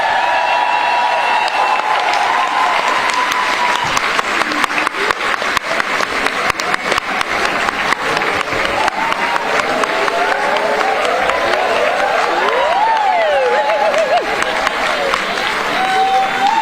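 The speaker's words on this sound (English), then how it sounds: "I'm going to be quiet and let you enjoy the noise of the crowd" A large convention audience at a Sweet Adelines International Region 31 barbershop chorus contest applauds and cheers as a chorus from Edinburgh, Scotland takes the stage, with steady dense clapping and scattered whoops sustained throughout.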